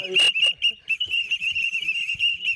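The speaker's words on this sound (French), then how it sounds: "Petit coup de sifflet de la victoire, là." A victory whistle is blown, a loud shrill blast followed by a long sustained whistle tone with faint knocks and rustles beneath it.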